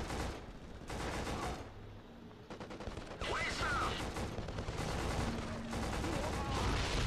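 AK47 fire in the PS2 shooter Black, loud repeated bursts of automatic gunfire across the stretch, with someone talking over parts of it.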